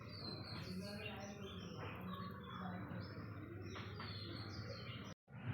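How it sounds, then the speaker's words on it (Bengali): A dove calls in short bursts while other birds chirp around it, heard softly in a quiet home setting, with a voice speaking briefly and a sharp cut near the end. "ওই যে ঘুঘু পাখি আওয়াজ করছে"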